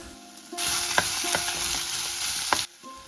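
Onions sautéing with pork in an oiled pan: a steady, close sizzle starts abruptly and runs for about two seconds, marked by a few sharp stirring clicks of a utensil against the pan, then drops away.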